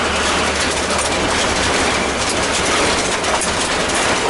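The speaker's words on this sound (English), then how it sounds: "Might be, maybe it's one of the circulators making a noise." A circulator pump in a hydronic heating system gives off a continuous dense rumbling, rattling noise, steady and loud throughout with no pauses or talking, recorded close up.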